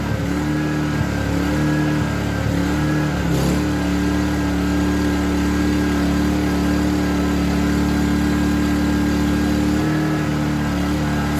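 A Scheppach SE2500i inverter generator runs loud and close, a constant engine drone with a steady, unbroken hum and no pauses.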